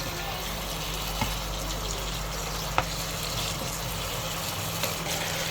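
Chicken ghee roast frying in a pan, with a steady broadband sizzle of meat cooking in ghee and faint occasional stirring taps, alone and without talk.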